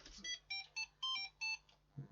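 A phone rings with an incoming call, a run of repeated bright electronic tone bursts in a quick pulsing pattern, faint and alone in the background.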